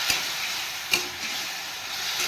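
Diced figs and potatoes fry with turmeric and salt in a pan, a soft even sizzle with two brief clacks of a spatula stirring.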